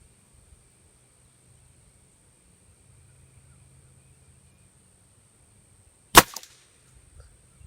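A single sharp crack of a .177 air rifle fired at long range through a 3-9x40 scope, short and distinct against quiet outdoor background with faint low rumble, no talking.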